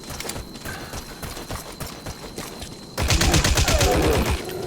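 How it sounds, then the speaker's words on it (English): Rapid bursts of machine-gun fire from a video game, clipped repeating shots that grow louder and denser in the second half as the firing continues. "Oh, the machine gun does less damage."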